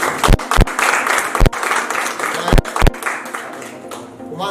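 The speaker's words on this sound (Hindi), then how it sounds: "बता दिया होगी जोरदार तालियां।" Audience applause at an award show in an event hall, loud sustained clapping from a crowd with sharp bursts over a busy background, fading slightly toward the end.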